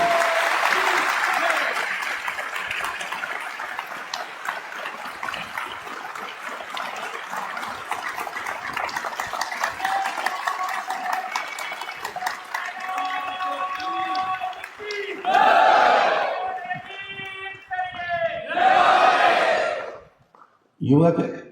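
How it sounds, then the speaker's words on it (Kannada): Audience applause and cheering at a religious gathering of the Uttaradi Mutt in Bagalkot, a long, dense roar of clapping filling the hall, then two shorter loud bursts of cheering near the end. "ನಿಮ್ಮ ಈ ಚಪ್ಪಾಳೆ ಇಷ್ಟು ಸಾಲೋದಿಲ್ಲ, ಈ ಮೇಲಿನ ಛತ್ತ ಹಾರಬೇಕು"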